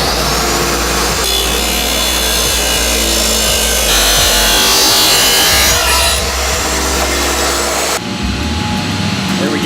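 Steel shovel blade being cut down the middle with a power tool, a loud, continuous grinding-saw roar running steadily throughout, stopping abruptly near the end.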